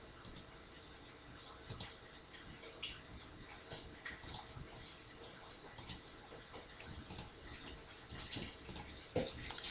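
Soft computer mouse clicks tap out at an irregular pace while a Cricut design layout is edited, each click faint and close, with no talking.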